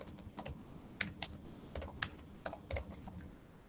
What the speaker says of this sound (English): I am just typing the text so that we can save time.